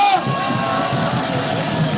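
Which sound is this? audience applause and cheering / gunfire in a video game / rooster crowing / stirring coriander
audience applause and cheering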